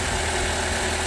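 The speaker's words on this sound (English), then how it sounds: "So I'm just letting the engine run up to temperature" Renault Twingo GT engine idling steadily while warming up to temperature after a thermostat housing replacement, a constant low hum with no talk.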